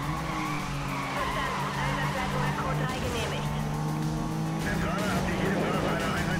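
Racing car in the video game Need for Speed Most Wanted, engine droning steadily with tire skids and squeals throughout, loud and close, with someone talking over it.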